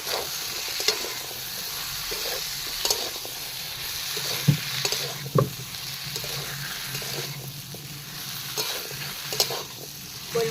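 Potatoes and taro frying with turmeric in a pan, a steady sizzle with occasional stirring scrapes and soft clinks, close and even throughout.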